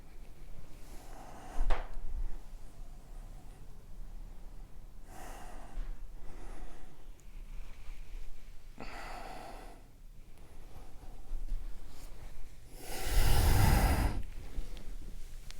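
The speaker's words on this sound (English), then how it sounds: "Gentle breathing." Slow, soft breaths in and out, several cycles spaced a few seconds apart, close and quiet, with one stronger exhale near the end.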